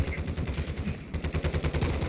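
Rapid automatic gunfire in the video game Warzone 2, dense repeated bursts of shots in a quick rhythm, loud and close, running almost without pause.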